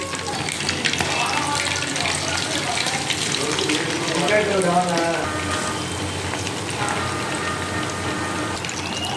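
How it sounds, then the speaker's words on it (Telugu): Marinated chicken pakoda pieces dropped into heated oil bubble and fry with a continuous, watery crackle, close and even, while an indistinct voice murmurs briefly partway through. "హాఫ్ అన్ అవర్ మ్యారినేట్ అయిన తర్వాత ఆయిల్ పెట్టి ఆయిల్ హీట్ అయ్యాక ఇలా వేసానండి."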